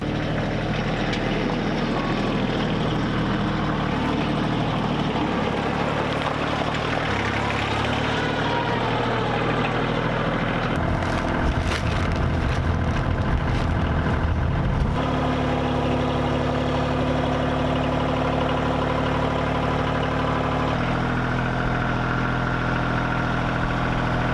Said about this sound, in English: Tractor's probably warmed up.